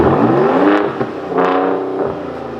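Engine of a 2020 Ford Raptor with an X pipe exhaust, loud and close, rising and falling through revs with a whooshing turbo note, continuous without talk.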